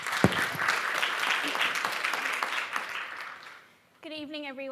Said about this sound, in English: Round of applause for Olivia, please.